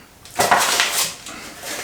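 A Detroit-style pizza pan handled while being unboxed, a short metallic clatter and scrape of the pan, close and moderately loud, with no voices.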